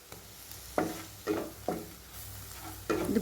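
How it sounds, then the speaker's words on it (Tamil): Ginger garlic paste sautéing in oil for a capsicum onion curry, a soft sizzle under repeated scraping stirs of a spoon in the pan, close and with no voices. "இது இப்போ இஞ்சி பூண்டு விழுது நல்லா பச்சை வாசனை போகிற அளவுக்கு வதக்கி எடுத்துக்குவோம்"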